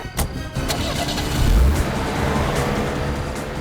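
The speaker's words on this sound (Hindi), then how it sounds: "गाड़ी तेज चलाओ" A car engine roars as the vehicle speeds off in a rush, a loud steady drone with a brief low surge midway, close and continuous with no talk.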